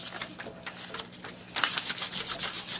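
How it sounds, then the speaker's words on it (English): Fins for a Viking model rocket are hand-sanded with sandpaper in rapid, rhythmic rasping strokes. The strokes are soft at first, then grow louder and quicker, close up with no talk. "Just sand them down, make them smooth on both sides."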